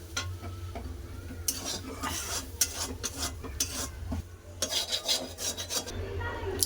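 Greens tipped into a hot pan and stirred, making a steady scraping and rasping sound with a low sizzle beneath and clusters of louder stirring strokes near the end.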